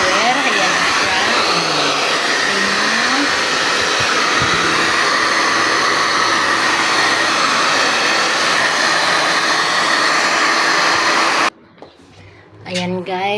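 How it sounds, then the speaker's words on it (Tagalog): A loud, steady whooshing pet blower drying a dog runs for most of the clip, its tone wavering slightly, then cuts off abruptly as a voice speaks briefly. "Malapit na kami matapos sa pagka-blower"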